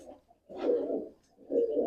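Pigeon from a racing bloodline cooing near after landing: two low, throaty coo phrases with a short gap between, no talk.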